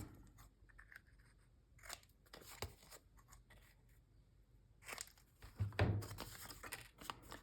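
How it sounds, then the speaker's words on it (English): Scissors snip a paper tag at a craft table in a handful of quiet, close cuts with crisp sharp snaps separated by pauses, ending in a slightly louder crunching cut. "this is a little bit taller tag, so cut that down"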